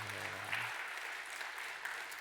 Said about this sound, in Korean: 마음 담고 우리 인사할 때 뜨겁게 박수하도록 하겠습니다.